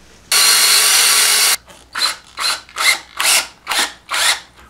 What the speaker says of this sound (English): I'm going to go drill a hole in the top of the handle